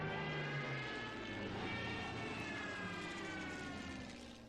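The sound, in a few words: Stuka dive bomber aircraft in a strategy video game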